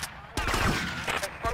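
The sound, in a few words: shotgun gunfire in video game GTA Vice City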